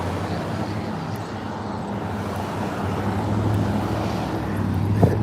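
A white truck and a white car pass together at a busy street corner, a steady close rumble of engines and road noise with a low droning hum and a slight swell toward the end.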